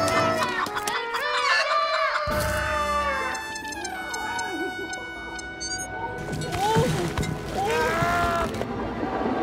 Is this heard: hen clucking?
yes